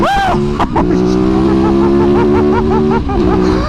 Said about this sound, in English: The bike rips like all hell.